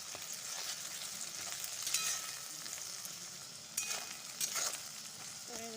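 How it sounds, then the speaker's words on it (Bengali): Mixed chowmein is tossed in a hot pan with a spatula, giving a low, steady sizzle with scattered scraping clicks and a few louder clatters of metal against the pan, fairly quiet and with no talking. "দেখো খুন্তি দিয়ে একটু নেড়ে দিচ্ছি যাতে ভালো করে ভুজিয়াটা তৈরি হয়"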